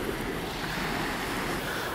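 Sea waves roll and wash in a continuous, dense roar of surf with wind buffeting the microphone, loud and close without a break.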